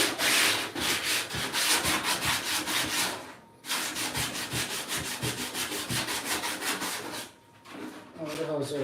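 A wooden body and legs are sanded by hand in fast, rhythmic back-and-forth rasping strokes, loud and close, with two brief pauses between runs.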